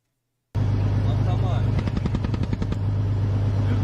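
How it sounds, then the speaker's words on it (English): A BMP-2 infantry fighting vehicle fires at a Ka-52 helicopter in wartime combat footage, a loud steady engine drone broken by a quick burst of about ten rapid cannon shots. "When you see the BMP-2 fire"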